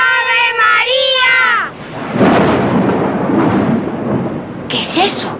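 Thunder rolls in a long, low rumble as a storm approaches, following a drawn-out sung or wailing tone, with a brief higher sound at the end.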